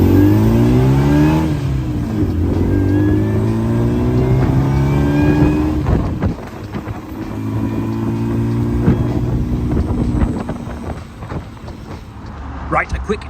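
Classic Cobra sports car with a 3.5 litre engine accelerating hard, loud rising engine revs through several gear changes, close up, with people talking over it.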